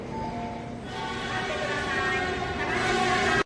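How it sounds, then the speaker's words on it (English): A JR Kyushu N700 series Sakura Shinkansen running on an early-morning service from Okayama toward Shin-Tosu, heard as a steady, rising rumble and hum that builds in loudness, with no talking over it. "This is a Sakura Shinkansen that JR Kyushu was running for the early morning trip from Okayama down to Shintosu."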